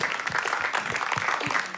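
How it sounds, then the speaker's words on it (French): At a live music show, an audience applauds as a musician is welcomed, giving a loud, sustained burst of many hands clapping with a few soft low thumps mixed in. "On peut l'applaudir déjà."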